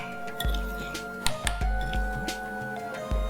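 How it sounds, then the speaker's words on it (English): Mango curd is pressed through a sieve with soft squishing and scraping strokes, along with light clinks and taps of a utensil against the mesh and bowl, close up. "Let's just pass this curd through the sieve so that I get a smooth paste and everything mixes well."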